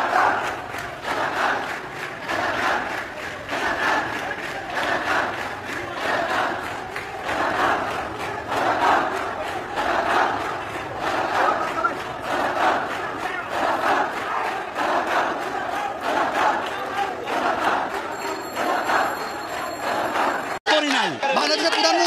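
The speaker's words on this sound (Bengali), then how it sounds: "রাত 1:30টা পর্যন্ত সেখান থেকে স্লোগান দেন শিক্ষার্থীরা।" A large crowd of students chants protest slogans at night in front of the Raju sculpture, a dense continuous roar of many voices with rhythmic pulses, steady and loud throughout before cutting off abruptly near the end.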